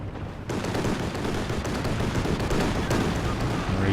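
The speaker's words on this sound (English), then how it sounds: "Here comes the IL-2 strafe." An IL-2 attack aircraft strafes in Company of Heroes 2, a dense, continuous roar of rapid gunfire and impacts that holds loud and steady for several seconds.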